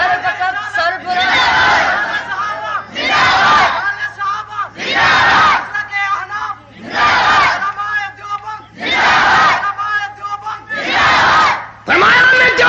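A large religious gathering shouts a slogan in unison, answering a Nara-e-Takbeer call with about six loud, evenly spaced bursts of massed voices, each separated by a brief pause.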